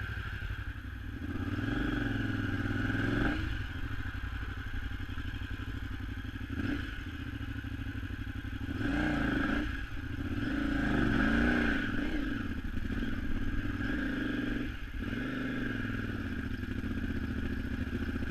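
Off-road motorcycle on worn Heidenau K60 tires with 30 to 40% tread left, struggling through mud on the Nevada Trans-America Trail; a steady engine drone rises and falls with repeated revs, wheelspin and clattering thumps.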